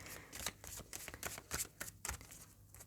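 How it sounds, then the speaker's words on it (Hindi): A deck of tarot cards is shuffled by hand, giving quick, quiet riffling flicks in an irregular rhythm, close and soft. "फाइनल शफल बाबा जी"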